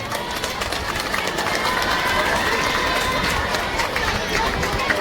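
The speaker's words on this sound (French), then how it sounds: "On applaudit pour ces élèves." A school audience applauds student teams at a Génies en herbe quiz contest, a steady, loud wash of clapping that holds evenly throughout.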